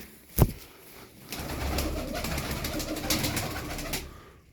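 Ornamental tumbler pigeons cooing in a loft, with soft repeated low coos over faint background noise and one sharp knock near the start.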